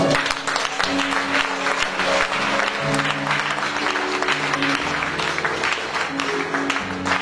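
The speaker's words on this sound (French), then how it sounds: "Alors acclame Dieu pour ça." A church congregation applauds together at a conference worship service, steady dense clapping holding for the whole stretch, with faint voices and music mixed underneath.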